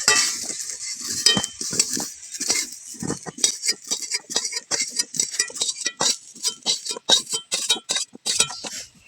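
A metal spoon clinks and scrapes against a wok while fried vegetables for a pointed gourd and potato curry are lifted out. The sharp, close taps come in quick, irregular clusters with no talking.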